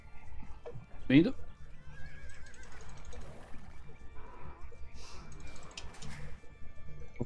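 Horses in Age of Empires 2 give one sharp, loud whinny about a second in, followed by faint game effects and clicking, while a player talks throughout.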